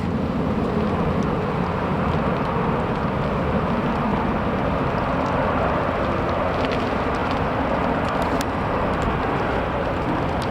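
An airliner takes off from Manchester Airport during a storm. A dense, steady roar of jet engines blends with wind and rain noise, loud and unbroken throughout, with no talking.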